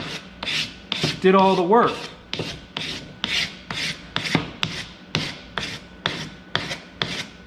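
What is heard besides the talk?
sanding a metal casting with sandpaper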